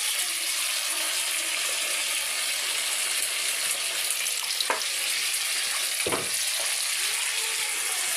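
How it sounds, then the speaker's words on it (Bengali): Hot oil sizzles steadily in a cooking pot, a close, even hiss with a couple of brief knocks or splashes partway through, no talking. "হাঁড়ির ভিতরে তেল দেবো"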